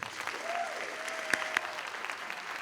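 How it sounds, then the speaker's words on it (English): A school convocation audience applauds the school board president with steady, moderately distant clapping, a couple of sharper claps standing out and a faint tonal sound running underneath. "Let's give her a round of applause."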